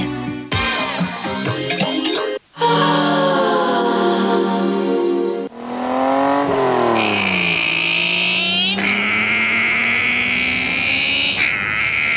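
A Volkswagen Golf with a DSG gearbox accelerating, its engine note rising smoothly and climbing in pitch through seamless gear changes, loud and close, with brief pauses between the pulls.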